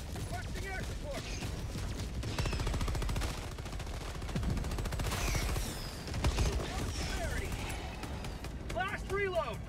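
Orbital strike explosions and heavy gunfire in Helldivers 2, dense booming blasts and rapid shots layered in a chaotic battle, with voices talking over the din.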